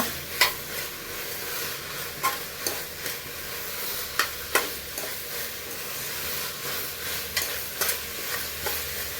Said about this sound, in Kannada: ನೀವು ಸೌಂಡ್ ಕೇಳಿಸ್ಕೊತಾ ಇರ್ಬೋದು ಯಾವ ರೀತಿ ಅದು ಫ್ರೈ ಆಗ್ತಾ ಇದೆ ಅಂತ